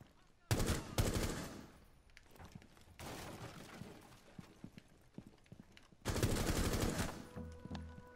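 Rainbow Six Siege gunfire in loud, sharp bursts of rapid shots, three separate volleys with quieter gaps of game ambience between them, no speech.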